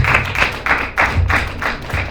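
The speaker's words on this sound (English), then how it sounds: "Please give a round of applause." Several quick claps repeat in a steady rhythm, like a short burst of hands clapping close by at a pitching and demonstration day event, with no voices.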